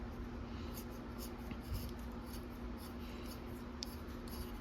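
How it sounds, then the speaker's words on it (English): A knife shaves and scrapes at a small wooden crankbait lure being carved by hand, soft rhythmic strokes repeating close up and quiet, with no talk. "If you work kind of slow with your knife, you can kind of get this round enough"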